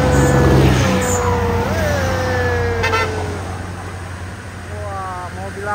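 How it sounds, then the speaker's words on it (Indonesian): Racing cars pass a truck on the road with a rush of engine noise and a horn sounding mid-way. Later come short horn-like blips and a hiss like air brakes, and a voice talks over much of it. "Mobil apa ya? Mobil balap semua."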